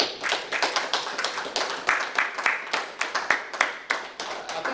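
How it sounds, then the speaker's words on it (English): An audience claps after a speech at a human rights event on ombudsmen, a dense burst of many hands applauding steadily and fairly loud for several seconds, with no voices over it. "I think they deserve another round of applause."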